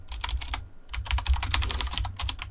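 Keys clatter in quick irregular bursts on a computer keyboard while a chat command is typed into Minecraft, close and fairly loud, with a short pause before the clicking resumes.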